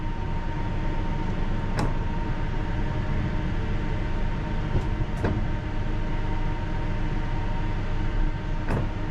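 A London Underground Piccadilly line 1973 stock train pulls away from the platform, a steady broadband rumble with a faint tonal whine and a few sharp clicks from the wheels or track.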